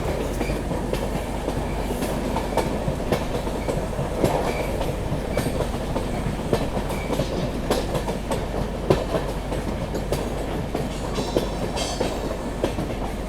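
The Agartala LTT Mumbai AC Express runs on a curved track, a steady loud rumble of wheels with rhythmic clickety-clack clatter throughout and no talk.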